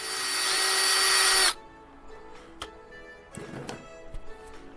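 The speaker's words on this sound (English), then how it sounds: "now I just drilled through the PVC pipe and not through the plywood" A power drill boring through PVC pipe, with a loud, high whirring burst that cuts off sharply after about a second and a half, followed by faint clicks and handling knocks.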